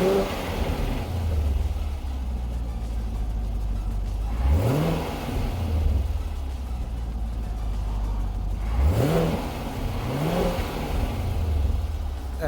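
A Chevrolet Camaro engine idles steadily in snow while set to snow-and-ice mode, then revs up sharply in several distinct rising bursts, close and loud with no talk.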